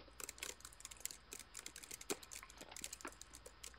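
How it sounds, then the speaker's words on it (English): Fast keystrokes on a computer keyboard, an irregular run of light clicks and taps close by with brief pauses, fairly quiet in a still room. "Back to typing."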